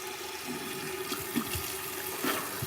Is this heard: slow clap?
no